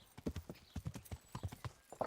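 A horse's hooves clip-clop in a steady, even walking rhythm in the medieval game Kingdom Come: Deliverance, fairly close but quiet, with the horse snorting briefly at the end.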